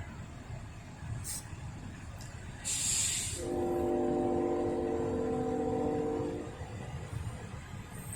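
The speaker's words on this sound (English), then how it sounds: "Hear that train horn?" A southbound Norfolk Southern train in Lynchburg, Virginia sounds its horn while approaching a grade crossing: one sustained, moderately distant blast of about three seconds over steady outdoor hiss and a few faint brief noises.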